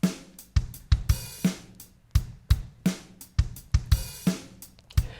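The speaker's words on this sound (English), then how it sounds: "this is a MIDI drum track" A programmed MIDI drum track plays alone: punchy kicks and snares with crisp hi-hats and cymbal crashes in a steady, tightly quantized rhythm.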